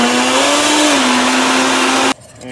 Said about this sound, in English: get that in the blender.